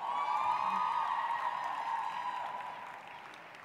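Applause from an audience at a university graduation ceremony, a steady dense wash of clapping that holds fairly even and then gradually thins and fades toward the end.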